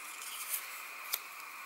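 Scissors snip quietly through a small paper bow cut from scrap paper, a faint steady rasp punctuated by a couple of short sharp cuts, close up with no talking.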